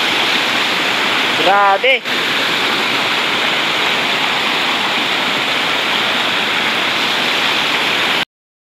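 The Majayjay River in Laguna rushes past in a constant loud broadband roar of current, with a brief spoken exclamation early on before the water continues alone.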